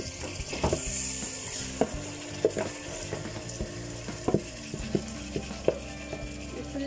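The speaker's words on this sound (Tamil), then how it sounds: "இதோட சேர்த்துட்டு நல்லா ஃப்ரை பண்ணிக்கோங்க. இந்த ஆயிலோட நல்லா ஃப்ரை ஆகட்டும்." Chicken marinated with salt, chilli powder and lemon fries in oil with tomatoes, making a continuous close sizzle punctuated by sharp clicks and scrapes of stirring.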